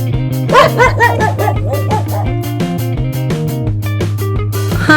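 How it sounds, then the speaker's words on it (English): A dog barks and yips several times in quick bursts over loud, rhythmic backing music, in a children's animal-name sequence. "Dog."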